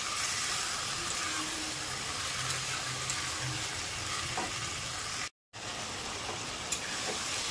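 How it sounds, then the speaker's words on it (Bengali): Peas and chopped tomatoes with spices sautéing in a pan, a loud, dense, steady sizzle with faint stirring touches and a brief cut near the end. "এবার এগুলোকে ভালো করে আমি 5 মিনিট ধরে কষিয়ে নেব।"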